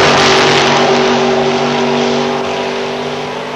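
Drag racing cars, including the Molson Export Mustang, roar at a 1992 Labour Day meet at London Motorsports Park, a loud steady engine drone with strong harmonic tones that fades slightly toward the end, with no talk.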